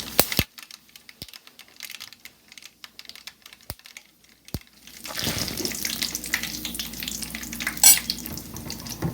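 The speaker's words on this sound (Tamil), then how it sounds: "கடுகு நல்லா பொரியட்டும். இப்போ இதில் கருவேப்பிலை போட்டுக்கலாங்க." Scattered sharp clicks in near silence give way to a dense, steady crackling hiss as mustard seeds and curry leaves splutter in hot sesame oil for a lemon pickle, close by with no voices.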